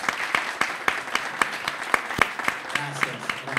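An audience applauds at an album presentation, a steady close round of clapping with dense sharp claps, while a voice speaks briefly near the end.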